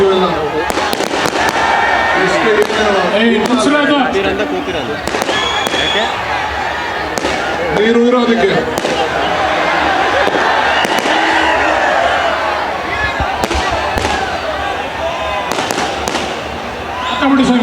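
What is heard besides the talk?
firecrackers bursting at Karaga festival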